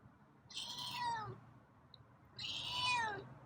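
Two distinct meows from a nearby feral cat, each a drawn-out descending cry, separated by a short pause in a quiet room.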